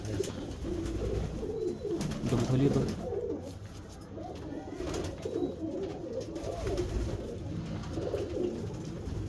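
Pigeons coo in a loft in Amroha, soft low repeated coos layered over a steady noisy background with some rustling.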